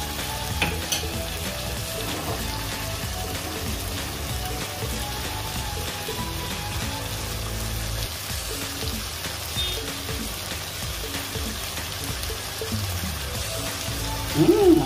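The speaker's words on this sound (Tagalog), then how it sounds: "Para habang ginigisa natin yung mga sangkap natin, ay maluto na rin ang chicken breast." Chicken breast and aromatics sauté for binagoongang okra, producing a loud, dense and continuous frying sizzle with occasional stirring scrapes and no talk.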